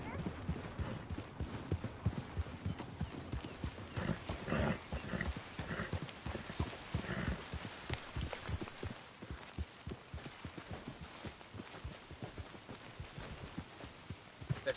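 Horse hooves clip-clop in a quick, uneven rhythm in Red Dead Redemption 2, layered with game sound effects and talk running over the top.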